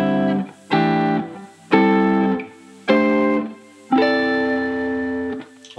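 Guitar sounds five pentatonic chord voicings one after another, each a separate strummed chord ringing for about a second, with the last held longer, clear and close with no talking.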